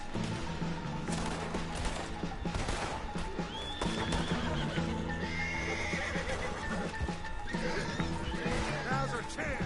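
Horse hooves clip-clop in Red Dead Redemption 2 amid a rescue escape, with a horse neighing and whinnying, steady game sound effects and music layered underneath, loud and continuous throughout.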